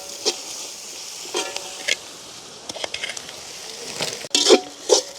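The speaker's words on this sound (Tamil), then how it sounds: "இந்த வெங்காயம் பச்சை மிளகாய் எல்லாம் அப்படியே எங்களுக்கு நல்லா வதங்கட்டுக்கு." Onions and green chillies sauté in a pan with a steady low sizzle, broken by a few stirring scrapes and sharper clatters of a spoon against the pan near the end.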